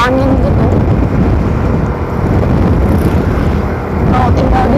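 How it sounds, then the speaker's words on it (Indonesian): Wind gusting through a Minangkabau village in the hills, a loud, steady rush and buffeting against the microphone, with a voice faintly present. "Sejuk dan berangin gitu."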